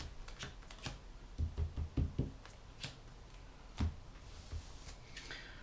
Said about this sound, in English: I should have dealt myself 6 cards.